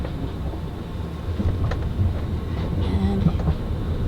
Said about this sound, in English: And looks like a commuter train.